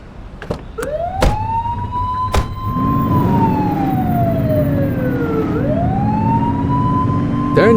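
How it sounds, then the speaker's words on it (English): Police car siren from the video game The Precinct, a loud wailing tone that rises and falls continuously over engine rumble, with a few sharp clicks at the start. "Turn that siren off. We don't need it on right now."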